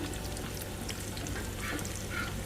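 Sliced onions sautéing in a pan as they soften, ahead of adding capsicum: a steady, faint, even sizzle and crackle with no talk over it.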